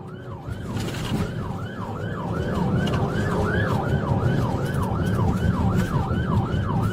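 Wailing siren of a stolen ambulance pursued by police at high speed, sweeping up and down in a steady repeating cycle, loud and close over a continuous road and engine rumble.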